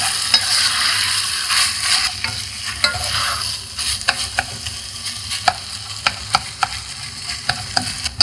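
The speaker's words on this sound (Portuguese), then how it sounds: "Vamos trabalhar aqui um pouco o bacalhau para se começar a desfazer e a envolver no alho e na cebola." Salt cod fries in olive oil with garlic and onion while a utensil scrapes and taps the pan, giving a loud, steady sizzle broken by sharp clicks that come more often toward the end.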